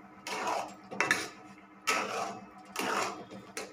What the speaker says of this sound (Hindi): फिर से इसको मिक्स कर लेंगे।